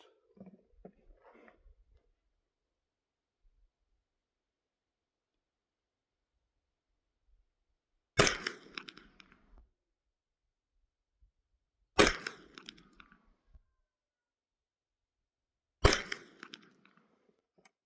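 Three distant, sharp gunshots from an AR9 carbine firing 124-grain round-nose ammunition at 132 yards. They are evenly spaced about four seconds apart, each with a short trailing echo, over near-silence.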